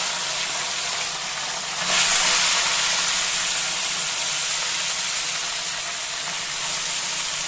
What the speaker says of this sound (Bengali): দিয়ে এবার মাছগুলোকে তেলের মধ্যে ছেড়ে দিলাম